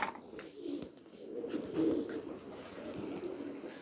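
Pigeons coo softly on a rooftop in winter, low throaty murmurs repeating irregularly over a faint hiss of outdoor ambience, moderately near and fairly quiet.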